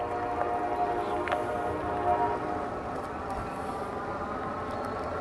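A train rumbles in the distance, a low steady drone with faint horn-like tones drifting over it, fairly quiet and far off.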